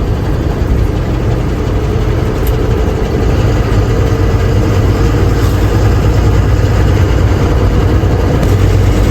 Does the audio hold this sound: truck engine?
yes